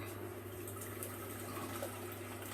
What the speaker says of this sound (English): So I'm going to put my hot water in the pan.